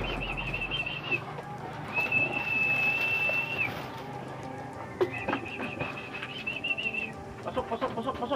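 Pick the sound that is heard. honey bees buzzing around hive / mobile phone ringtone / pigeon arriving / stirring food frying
pigeon arriving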